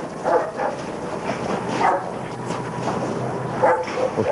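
A guard dog barks a few times at a moderate distance, short separate woofs over a steady background hiss, with no talking.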